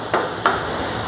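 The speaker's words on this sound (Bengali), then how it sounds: "এখন মশলাটা ভালোভাবে কষাই নেব।" Spice masala of turmeric, chilli powder, salt and garlic frying in a pan for a bhetki fish curry with beans and potato, two quick stirring scrapes over a low sizzle, no talk.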